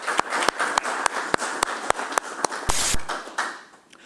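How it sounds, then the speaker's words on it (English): Applause for the treasurer's team at a committee budget hearing: a handful of people clap in quick, fairly regular strokes, close and sharp, settling and fading out after about three seconds. "literally we need to applaud your team"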